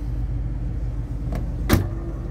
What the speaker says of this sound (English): It's got the power pull down on the rear trunk.